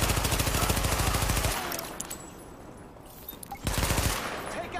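Rapid automatic gunfire in the shooter game Tom Clancy's The Division rattles loudly, breaks off for a couple of seconds of quieter ambience, then resumes in another dense burst.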